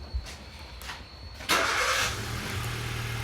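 A Hyundai i-series car engine with P0011 and P0014 camshaft timing fault codes cranks over and catches at about the halfway point, then settles into a steady idle.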